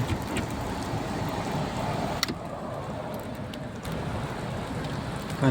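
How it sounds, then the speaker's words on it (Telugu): Steady rain pattering in Kuwait during a thunderstorm with lightning, a constant wash of noise and a few sharper drips or clicks, fairly close, with no talking. "చూడండి, వర్షం ఎలా పడుతుంది."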